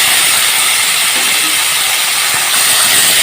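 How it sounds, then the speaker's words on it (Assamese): Small fish fry in hot oil in a wok, giving a loud, dense, steady sizzling hiss that fills the whole moment without pause. "তেলখিনি গৰম হৈ গৈছে ইয়াতে মই মাছখিনি অকমান ফাক কৰি দিম"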